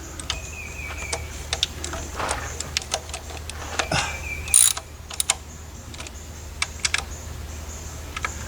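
A wrench works the valve cover bolts of a 2002 Toyota Camry, giving a close series of sharp, irregular ratcheting clicks and small metallic taps, with a brief louder clatter partway through and no talking.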